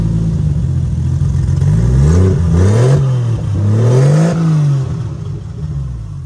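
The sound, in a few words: 1JZ engine in Nissan S14 running with straight downpipe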